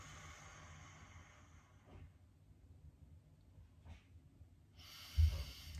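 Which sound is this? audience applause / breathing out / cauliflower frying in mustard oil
breathing out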